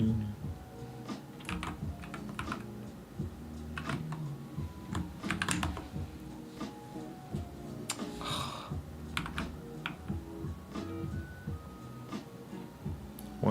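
Someone types steadily on a computer keyboard, irregular bursts of close clicking keystrokes with brief pauses, while a person talks quietly at times in the background.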